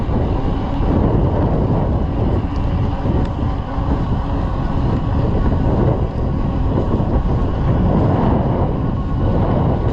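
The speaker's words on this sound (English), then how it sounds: "pretty chilly wind today." Chilly wind buffeting a microphone during an e-bike ride, a loud, continuous rumbling roar that stays steady throughout.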